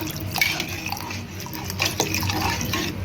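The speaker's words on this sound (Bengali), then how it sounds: "এবার পরিমাণ মতন আমি জল দিচ্ছি।" Water runs loudly into a pressure cooker holding chana dal, a steady splashing pour that is close and continuous, with faint clinks of the pot.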